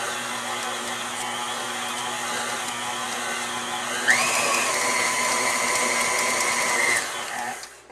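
Electric mixer beating buttermilk biscuit dough in a bowl: a continuous close motor whir that steps up in pitch and loudness partway through, holds, then winds down near the end.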